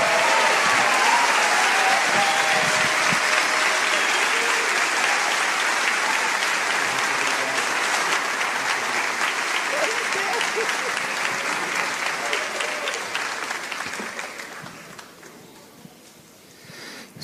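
A church audience gives a long, loud round of applause welcoming Silvio Almeida, Minister of Human Rights and Citizenship. The dense clapping holds steady, then thins and fades near the end.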